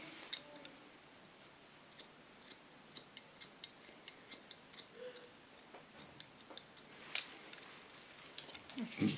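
Hair scissors snipping hair during a salon cut, a series of faint, crisp clicks in an uneven rhythm, close but quiet against low room noise.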